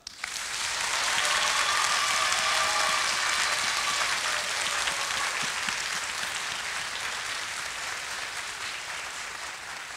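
A large audience at a comics festival draw battle applauds a manga artist's drawing, a loud, dense wall of clapping that swells quickly after a quiet start and holds steady, easing slightly toward the end.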